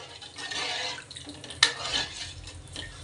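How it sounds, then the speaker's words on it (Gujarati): Buttermilk is stirred in a cooking pot with a spoon, a close liquid swishing with a sharp scrape of utensil against metal midway, no speech. "છાશ નાખવાની છે. અને આને હલાવી લેવાની છે."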